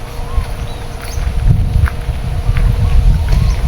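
Dry wind blows steadily across an outdoor farm plot where vegetables are being picked, a continuous low buffeting rumble with gusts rising and falling throughout.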